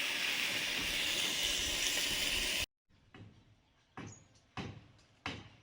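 Tomatoes land in hot oil tempered with five-spice seeds for a tomato chutney, giving a loud, steady sizzle for a couple of seconds that stops abruptly, followed by a few faint clunks.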